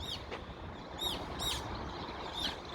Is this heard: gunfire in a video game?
no